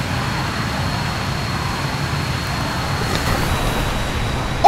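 Aircraft touching down on a road in the military game Arma 3, a steady broadband rumble of engine and rolling noise held at even loudness throughout, with no voices.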